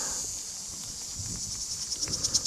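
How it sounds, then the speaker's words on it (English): Crickets chirping along a trail near a Roman fortress in Bulgaria, a faint high-pitched trill that gives way to a quickening series of sharp pulses growing louder toward the end. "Then we went to check out what was making all the cricket sounds."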